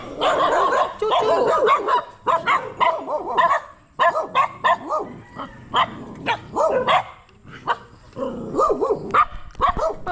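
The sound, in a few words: large dog barking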